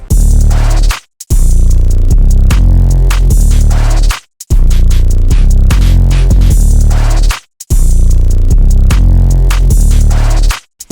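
A loud, heavy 808 bass beat with a bouncy, syncopated pattern, playing in repeating bars with brief silent gaps between them, in FL Studio.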